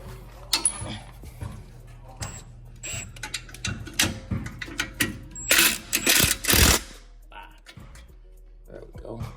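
A 10 millimeter socket wrench works on the front end of a Brougham car, with irregular metallic clicks, clanks and ratcheting bursts close by, louder in a cluster midway, over a low background hum.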